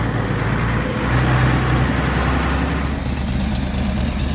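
A 1978 Ford welding rig truck, its original engine long since replaced, idles steadily up close, a constant low rumble with a faint hum layered in and no talking.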